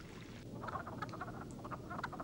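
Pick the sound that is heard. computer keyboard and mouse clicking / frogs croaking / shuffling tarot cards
frogs croaking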